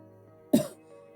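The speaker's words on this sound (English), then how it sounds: "coughing up phlegm and clutching her chest" A single short cough from a woman, one sharp throaty burst over a faint quiet background.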